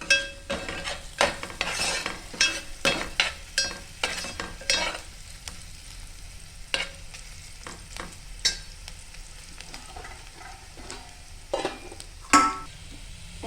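A spoon scrapes and clinks in a pan as roasted onion and coconut with asafoetida and ginger-garlic paste are stirred, giving irregular quiet strokes over a soft frying sizzle.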